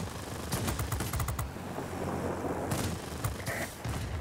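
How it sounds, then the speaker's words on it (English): Plane cannon in the World of Warplanes video game, firing in quick rapid bursts, first a rattling volley, then a pause filled with engine drone, then another burst, fairly faint and steady. "And there's a big cannon in this plane."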